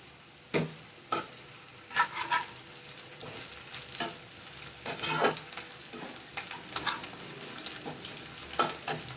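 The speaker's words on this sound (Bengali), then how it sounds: "এদিকে কড়াইতে তেল দিয়ে পেঁয়াজটাকে হালকা করে ভেজে নিচ্ছি।" Sliced onions frying lightly in oil in a kadai, a soft steady sizzle broken by scraping stirs and small clinks, fairly quiet and close, with no voices over it.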